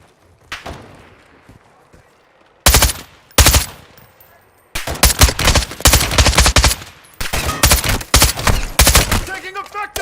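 Bursts of automatic gunfire from the video game Call of Duty Warzone DMZ, loud and close: a few isolated shots, then sustained rapid fusillades with brief pauses, ending in scattered clatter.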